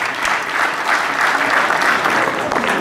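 Hall audience at a piano festival in Sfax, Tunisia, applauding a veteran musician being honoured, with dense, steady clapping filling the room, close and loud.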